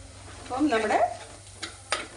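Onions fry and turn golden brown in a pan for a Kottayam-style fish curry. A utensil scrapes and stirs through a soft sizzle, followed by two short clinks against the pan.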